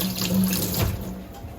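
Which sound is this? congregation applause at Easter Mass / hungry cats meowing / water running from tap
water running from tap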